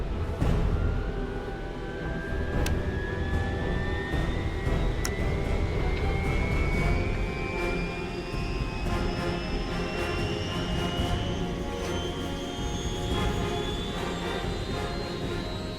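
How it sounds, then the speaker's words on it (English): A helicopter in flight keeps up a loud, steady engine drone and rotor rumble, with a turbine whine slowly rising in pitch throughout and no talk. "Ted, I had no idea you knew how to fly a helicopter"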